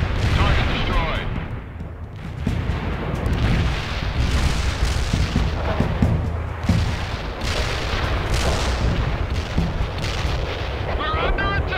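Mortar strike explosions in World in Conflict: dense, rumbling booms and crackling blasts rolling on continuously, loud and near, with voices talking over the bombardment.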